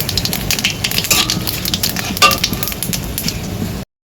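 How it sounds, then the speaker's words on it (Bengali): Bay leaf, dried chilli and cumin frying in hot oil in a wok, a close, continuous crackling sizzle with small pops that cuts off abruptly at the end. "এখানে আমি তেজপাতা, শুকনো লঙ্কা আর জিরে দিয়ে দেবো। ফোড়নটা আমি ভালো করে ভেজে নেব।"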